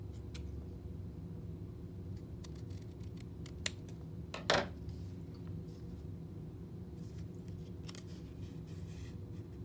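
Scissors snipping through folded paper while shaping a paper house roof, quiet scattered clicks with one brief clear cut over a low steady hum, no talking.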